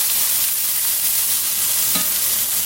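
Flat iron steak sizzling loudly in a hot pan, a dense, continuous frying hiss with one brief louder crackle near the end, no voices.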